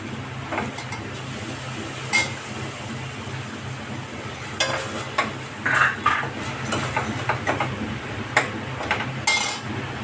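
Fresh fenugreek leaves drop into a hot pan over sautéed ginger-chilli paste and get stirred, with scattered metal clinks and scrapes of a spoon against the pan over a steady background hum, no voices.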